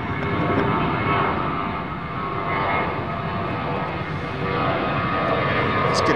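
Airliner jet engines at Chicago O'Hare airport give a loud, sustained roar and whine that swells slightly and holds steady throughout, with no talk over it.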